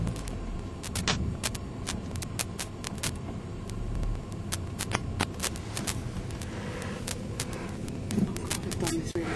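A car drives steadily during a driving test, with a constant engine and road rumble running throughout and scattered clicks and rattles from inside the cabin.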